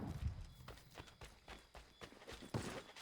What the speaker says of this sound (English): Oh, and a horse that just perfectly is here.